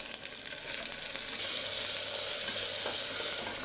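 Tomatoes sizzling as they are added to a frying pot of haleem, a steady bright hiss that grows slightly louder partway through, with faint stirring scrapes and no talk.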